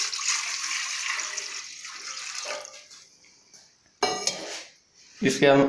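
A mug of cold water is poured into a pot of boiling milk while making Kashmiri chai, giving a splashing pour that fades, followed by sharp metallic clinks of kitchen utensils against the pot.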